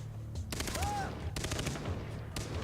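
Sniper rifle gunfire in the video game Far Cry 3, with loud sharp shots and echoing reports, a whooshing swept tone and a steady low game rumble underneath.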